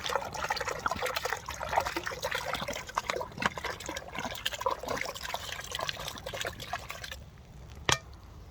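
Murky water trickling and dripping through a suspended Millbank-type filtration bag, a close, soft, continuous liquid patter that fades near the end before a single sharp click.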